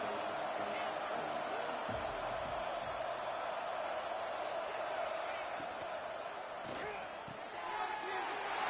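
Stadium crowd noise in a football video game as the defense faces a red zone stand, a steady, dense roar of fans that stays loud and constant throughout.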